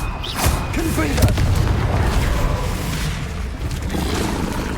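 Fiery Confringo spell blasts in the Hogwarts Legacy video game, a deep rumbling boom with crackling debris, loud and sustained amid combat noise, with a voice shouting spell names.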